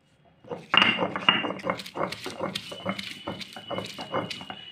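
Flat beans being ground into paste by hand, likely on a grinding stone, giving repeated scraping and knocking strokes in a steady rhythm, close and clear, starting after a short quiet moment.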